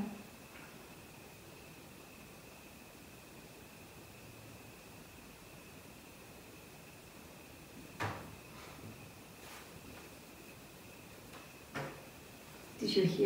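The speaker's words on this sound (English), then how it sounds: "Did you hear a little knocks? You got Chris? I think that's me adjusting on the bench here" A few faint, brief knocks from someone shifting on a bench during a nighttime paranormal investigation, spaced apart over a steady low hiss, with a slightly louder cluster of bumps at the end.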